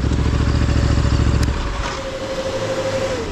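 A Ducati Desert X motorcycle on a rough enduro trail: a loud, close engine rumbles hard with a rhythmic throb, then eases to a lower idle-like burble as the revs drop.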